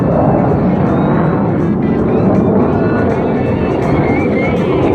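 Military jets, F-15s among them, roar overhead in a continuous loud rush during a simulated attack at the Nellis Air Force Base airshow, with a steady heavy engine wash throughout.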